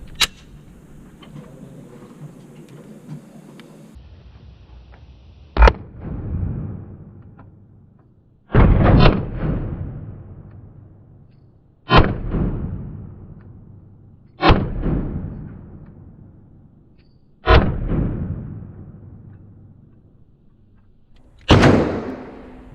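Six loud, widely spaced single shots from a Walther PPQ pistol fitted with a DPM Systems guide rod, each sharp crack trailing a long echoing decay, with a faint low hum in the background and no talking.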